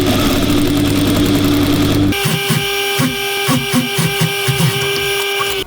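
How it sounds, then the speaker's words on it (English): A sewing machine stitches a seam in a blanket upcycled into a hoodie. After a noisy start, the machine hums steadily and loudly with a fast, regular mechanical pulse. "we're gonna be stitching at 1/2 inch"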